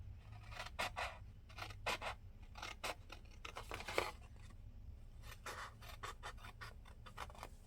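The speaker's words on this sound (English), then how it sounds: "I'm going to take that little piece and I'm going to cut it off" Scissors snip through paper and cardstock while a Halloween card is made, giving a steady run of short, faint cuts and rustles close by on a quiet table, with no one speaking.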